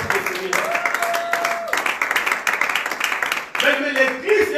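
A church congregation claps and calls out in acclaim for the Lord, a dense mass of applause mixed with many raised voices, steady and full throughout, with a brief dip near the end.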